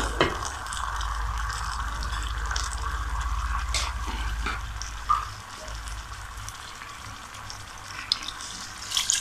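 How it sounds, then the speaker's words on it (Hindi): Water poured into a pan of frying Chicken Manchurian sauce sets off a steady sizzle and bubbling hiss, with a low hum underneath and a few soft clinks and stirring sounds. "कर लेंगे अब इसके अंदर डालूंगी मैं थोड़ा सा पानी"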